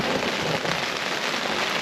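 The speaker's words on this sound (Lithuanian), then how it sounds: "Lyja visą laiką nuo paskutinių pakalbėjimų, vėjas belia koks." Rain falling steadily outside, with wind, during a carp fishing trip: a dense, even hiss of drops on surfaces, constant and fairly close, with no talk.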